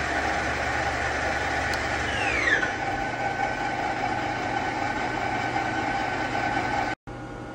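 The spindle of a 2011 Doosan Puma 300C CNC lathe runs in low range with a steady mechanical hum. A whining tone sweeps downward as the speed drops from 800 to 500 RPM, then holds steady, close and moderately quiet.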